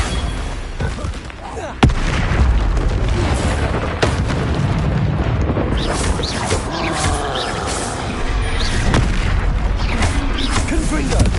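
Confringo blasting spell explosions in Hogwarts Legacy, a sharp loud boom early on followed by further bursts and rumbling crackle, with a voice speaking over the noise.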